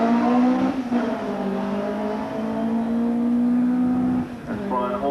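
A 1991 Brighton Speed Trials race car, a 3.3 turbo Mountain Mark, accelerates with a rising engine note, loud and close, under a commentator's voice.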